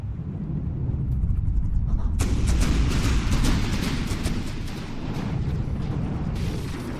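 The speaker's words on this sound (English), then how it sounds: "Oh, she's shooting." Heavy gunfire from a gunship in the naval combat game From the Depths, a dense rumbling barrage of booming shots that starts abruptly and keeps going, loud and alone.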